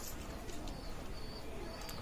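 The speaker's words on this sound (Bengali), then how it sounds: "রানিং পেয়ার কবুতর" Pakistani teddy pigeons coo softly amid a faint, steady background hiss, with a few brief chirpy calls scattered through.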